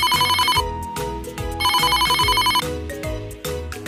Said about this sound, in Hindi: पीचू को फोन करता हूँ मैं।